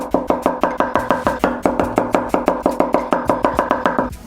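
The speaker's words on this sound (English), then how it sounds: "Now for the salad, we're gonna start with the cucumber. Slice it in the middle." A knife chops through a cucumber on a cutting board in quick, steady strokes, around twenty crisp close-up knocks in an even rhythm with no one talking.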